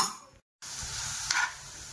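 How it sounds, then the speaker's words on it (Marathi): Steady hiss of frying in oil, briefly cut to silence, then resuming with a short louder sizzle burst. "तर थोडंसं तेल टाकून ना त्याला फ्राय करून घेते."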